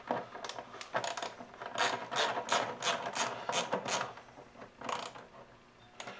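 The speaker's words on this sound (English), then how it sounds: "Again, using the 8mm socket, we're going to go into here" Ratchet turning an 8mm socket on the engine of a 2006 Hummer H3, a rapid run of close metallic clicking strokes in bursts, near and moderately quiet.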